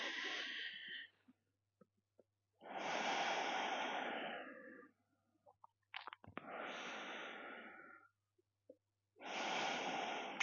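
Slow, deep breathing during a yoga session for the lower back and sciatica: long, soft, airy breaths drawn in and let out close by in a steady, unhurried rhythm with quiet gaps between them.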